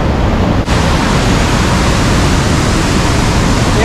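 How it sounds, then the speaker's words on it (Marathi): The Mandakini river rushes along the Kedarnath trek, a steady, dense roar of fast-flowing water that fills the scene without a break. "हे मंदाकिनी नदीचं पात्र"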